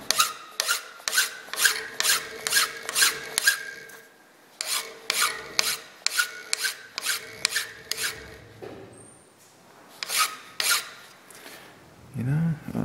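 Hand file rasping back and forth across a workpiece held tight in a clamp, a steady run of loud, rhythmic strokes in bursts with short pauses between, close and alone without talk.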